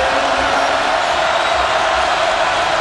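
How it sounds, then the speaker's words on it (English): Dense, loud roar of a college basketball arena crowd at a UAB home game against UCF, an unbroken wall of cheering and noise throughout. "This crowd is loud."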